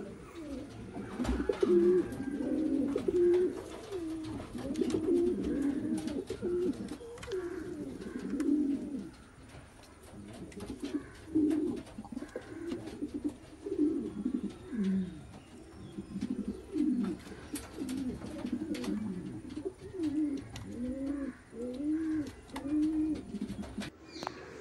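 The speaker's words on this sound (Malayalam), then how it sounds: "കുറച്ച് പറവകളും പ്രാവുകളൊക്കെ കൊടുക്കാനുണ്ട്" Several pigeons kept for sale in Kerala coo continuously, with overlapping soft, rolling calls that keep up steadily throughout at close range, and a few other bird chirps come through faintly.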